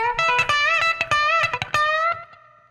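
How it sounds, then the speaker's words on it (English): An electric guitar plays a lick in short, staccato chicken-picking style, with crisp plucked notes and a held string bend, sounding close and bright with a slight effects tone. "real short staccato chicken picking style"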